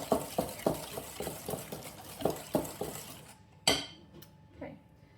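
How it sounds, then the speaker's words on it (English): A whisk beating almond extract into a pudding mixture in a bowl, rhythmic clinking strokes against the bowl, then a sharper clatter and a few softer knocks as the whisking stops. "But we're going to whisk that in."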